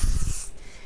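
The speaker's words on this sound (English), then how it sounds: "spray the bosal directly with a little bit of 505." 505 temporary adhesive sprays onto quilt wadding in one brief, close, breathy hiss that fades fast.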